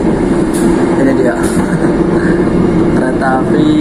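A passing commuter train heard from aboard a moving train near Krian station, a continuous rumbling roar with rail noise, loud and close, with voices talking over it.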